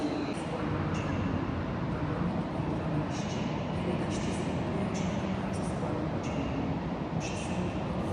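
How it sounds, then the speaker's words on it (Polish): A TLK passenger train pulls out of Wrocław Główny station with a steady, fairly distant rolling rumble and occasional faint squeals and clanks, no talk. "Startuje TLK Wyczółkowski."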